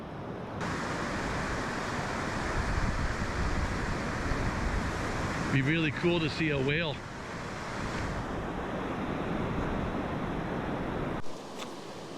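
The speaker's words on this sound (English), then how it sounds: "It seems like the waves are even bigger around this corner." Ocean surf breaking along a rocky shoreline, a steady wash of waves with wind buffeting the microphone, briefly joined by a nearby voice before settling back to continuous rolling surf.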